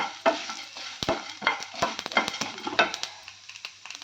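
Fenugreek and mustard seeds fry in a pan, giving a close, crackling sizzle broken by sharp stirring scrapes and pops. The sounds come in an irregular rhythm with no voice over them.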